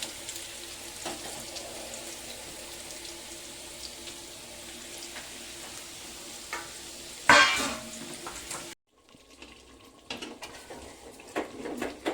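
A spoon scrapes and clinks against a pot while stirring country chicken curry, with quiet intermittent stirring, a louder clatter of cookware midway, then softer handling noises.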